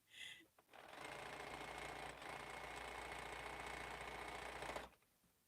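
A sewing machine stitches quilt pieces in one continuous close run of about four seconds, starting after a brief handling noise and stopping abruptly, with no talk.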